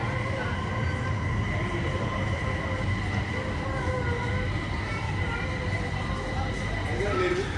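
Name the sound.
Guangzhou metro train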